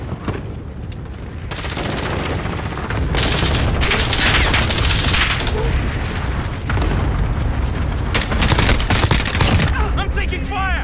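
Video game gunfire in dense, loud fusillades and rapid bursts with booming impacts, continuous across the whole stretch, with game voices calling out under the shooting.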